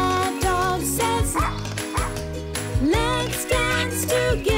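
A cartoon dog barks in a children's nursery song, repeated yips sitting inside a bouncy, loud musical backing.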